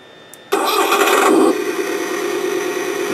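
A toy truck's roughly $24 electronic sound module, with the truck's drive motor disconnected, plays an engine start: an abrupt loud crank that revs for about a second, then settles into a steady rumbling idle with nothing else heard.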